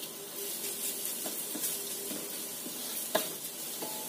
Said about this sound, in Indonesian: Ini kita tumis duluan wortelnya biar layu atau matang duluan.